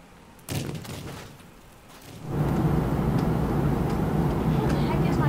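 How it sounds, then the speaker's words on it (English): Airstrike explosions in the video game Teardown: a sharp blast lands first, then a heavy, sustained rumbling roar of detonations and collapsing debris swells up and keeps going. "Airstrike."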